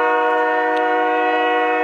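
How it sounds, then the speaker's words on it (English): A train horn blares with a steady, sustained harmonic tone near a college baseball field, loud and continuous throughout. "Might be able to hear the train as it moves its way"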